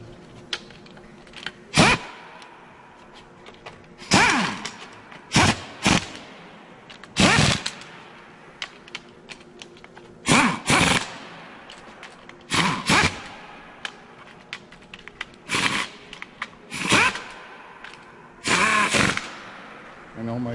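An impact wrench drives valve cover bolts on a Cummins ISL diesel engine in short, sharp rattling bursts, roughly a dozen loud close hammering blasts separated by quiet pauses.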